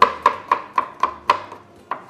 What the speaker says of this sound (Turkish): Bıçağın sesini duyuyoruz.